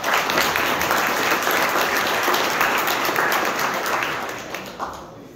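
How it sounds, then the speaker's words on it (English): Symposium audience giving the chef a round of applause after lunch, a loud, dense, sustained burst of clapping that fades out near the end. "If y'all could give him a round of applause"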